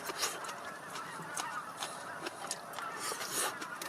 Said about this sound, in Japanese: また渡り鳥がすごい